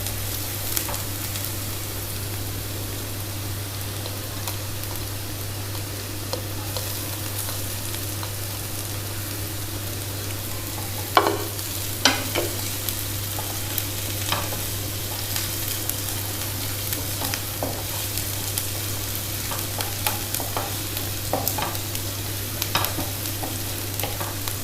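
Chicken frying over a high flame with garlic and ginger tossed in, a steady low sizzle under a constant hum, with occasional scrapes and clinks of a stirring spoon.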